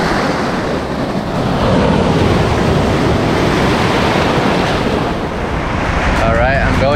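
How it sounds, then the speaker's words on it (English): Ocean waves break continuously at Nagtabon surf beach near Puerto Princesa in the Philippines, a dense, steady roar of surf with wind buffeting the microphone throughout. "it's cool seeing waves again"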